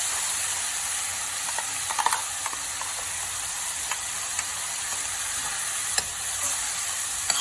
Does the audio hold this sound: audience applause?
no